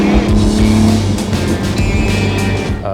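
A 2020 Ford GT Liquid Carbon, a race-derived mid-engine sports car, drives on the road with a loud, close engine drone and shifting tones as revs rise and fall, steady throughout with no talking.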